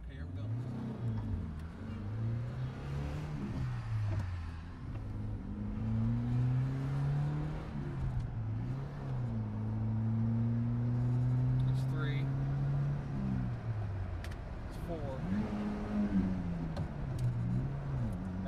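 A 1991 Volkswagen Vanagon accelerates along a busy road in steady, close engine drone that rises and shifts with gear changes, with a continuous rumble of road noise throughout and no talking.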